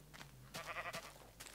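Sheep bleating in a farm video game, several short bleats close by, with a faint game hum underneath and no talk.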